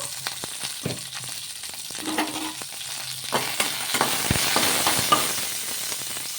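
Green chillies fry in oil in a kadai with a dense, crackling sizzle, sharp pops and stirring scrapes that build slightly in loudness, heard up close with no talking.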